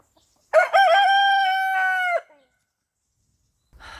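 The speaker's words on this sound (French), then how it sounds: "un coq qui chante depuis 5 h du matin" A rooster crows once at dawn near a campsite, a loud, clear, drawn-out cock-a-doodle-doo close by in quiet surroundings, followed by silence and then a faint rustle.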